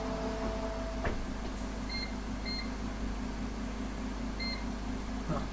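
Kitchen timer in a home baking setting, several short electronic beeps as it is set, with two quick pairs then a single beep, quiet against a steady hum of appliance noise.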